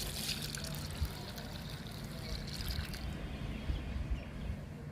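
Liquid fertilizer poured onto a potted lemon plant, a steady soft trickle and splash under a low, constant background rumble, fairly faint and continuous.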